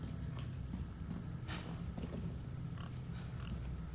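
Pigs grunt in the video game Resident Evil 4, with low snorts and oinks sounding over a steady in-game rumble, moderately close, plus a few scattered steps and clatters.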